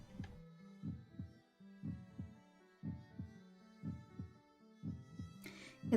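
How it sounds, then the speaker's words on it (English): A heartbeat sound effect from an indie video game plays as a steady, loud double thump repeating about once a second, with a brief higher tone at the very end. "My voice seemed deafened by how loud my heart was beating because it's really loud."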